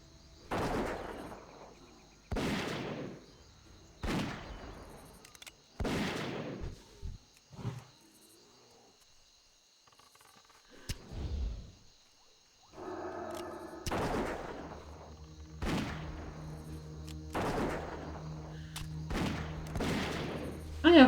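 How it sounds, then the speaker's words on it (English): Gunfire shooting at the player in World of Warcraft Classic, a series of loud single shots spaced a couple of seconds apart, each with a booming tail, some closer together mid-clip, among quieter ambient game sounds. "I have someone shooting me in the back."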